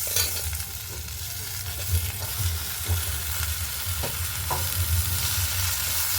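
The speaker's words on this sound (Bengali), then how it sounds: "সবগুলো ভালো করে নাড়িয়ে নেব।" Gourd greens, potato and eggplant stirred in a sizzling pan, a steady frying hiss with scraping stirs recurring every second or so, close and continuous without talk.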